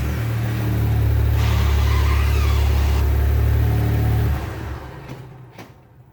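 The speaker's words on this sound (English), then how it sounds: "I'm actually going to turn the car on and turn the wheel a little bit" A Saab car engine runs at a strong steady idle with a faint high whine on top, then cuts off abruptly after about four seconds, leaving quieter ambient noise and a couple of small knocks.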